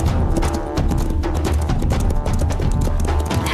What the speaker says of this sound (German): Zeig diesem Riesenpferd, wie du galoppieren kannst.